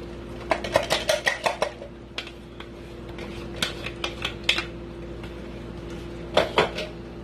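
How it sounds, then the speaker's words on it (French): A spoon stirring djoumblé sauce, made with dried okra powder, in a metal pot: clusters of quick clinks and scrapes against the pot in irregular bursts, close by and clear over a low steady hum, with no voices. "Je mélange bien."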